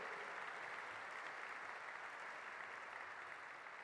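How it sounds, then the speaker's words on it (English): A crowd at Senator Ron Wyden's event applauds steadily for about four seconds, a dense, even wash of clapping from many hands, quite faint and distant throughout. "let's give a big round of applause"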